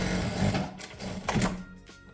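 A Jack A4C industrial sewing machine stitches with automatic backtack in two short motor-driven bursts of rapid needle rattle, the second briefer, close and moderately loud, with no talking.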